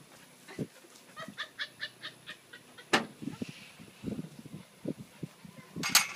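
Chickens cluck in a short rhythmic series of bursts at a farm with hounds and a puppy nearby, mixed with scattered animal noises and a sharp bang midway.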